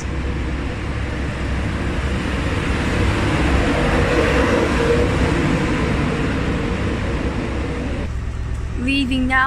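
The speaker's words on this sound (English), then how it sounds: "What's leaving now is your HST LNER service to Newark Northgate" An LNER HST train on the Newark Northgate service pulls out of a station with a broad, steady rumble that holds for most of the clip, and a voice speaks briefly near the end.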